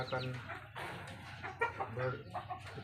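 Village chickens on a free-range poultry farm clucking close by in short repeated calls, mixed with some background voices.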